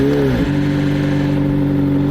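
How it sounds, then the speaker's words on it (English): A McLaren 720S in track mode fires up, its engine catching with a brief shift then settling into a loud, steady, close idle drone. "press the brake as such, and then press start, and the car should start louder"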